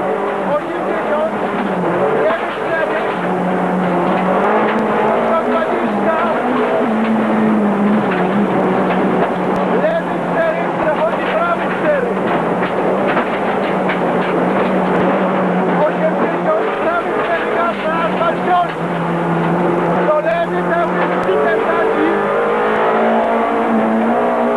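From inside a 1995 Polish Rally Championship car at the end of a special stage, the engine drones loudly and continuously, rising and falling through gear changes, with a commentator talking over it.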